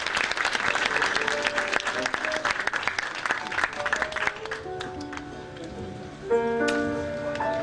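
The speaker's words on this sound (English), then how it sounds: "give them a loving round of applause" Applause from guests at a 50th celebration dinner, strong and dense at first, then thinning into scattered claps while clinking glasses or cutlery and faint chatter come through toward the end.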